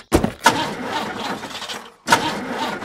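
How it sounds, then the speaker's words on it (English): A cartoon car's engine cranks and sputters but fails to start, in two close, loud attempts separated by a brief pause. "Elephant's car won't start."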